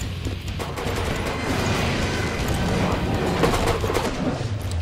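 Shotgun in the video game Killing Floor 2 firing both shells at once as its secondary fire, part of a dense, loud barrage of sustained gunfire and combat noise filling the whole moment.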